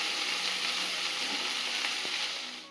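Lady's finger (okra) stirred as it fries in a pan, a steady close sizzle with faint scraping of the stirring throughout, no talking.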